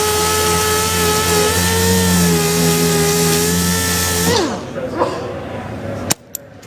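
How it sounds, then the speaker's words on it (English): A DA sander runs on a car body panel, finishing and dressing spot welds: a loud, steady motor whine that winds down partway through, followed by quieter handling noises and a sharp knock. "And we'll finish off with the DA."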